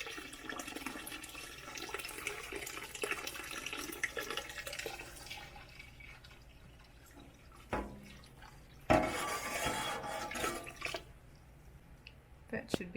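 Water pours and splashes into a large pot for canning peach jam, a steady close trickle that eases off, then a louder gushing burst near the end, with a voice speaking over parts of it.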